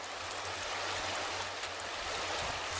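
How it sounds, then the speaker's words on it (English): Water flowing out of a restored creek channel into the existing Whychus Creek, a steady broadband rushing and trickling stream sound with a low rumble underneath, constant and fairly faint, with no talking. "you can see water is flowing out of the restored channel and into the existing"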